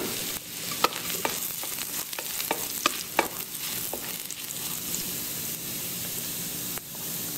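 Garlic sizzles and fries in a tablespoon of oil in a pan for a noodle stir fry, a steady hiss broken by scattered sharp crackles and pops from stirring.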